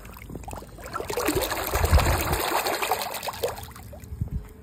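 WYBOT C2 Vision robotic pool cleaner climbing a pool wall to the waterline, heard as a close, continuous watery churn and trickle with a low motor hum underneath.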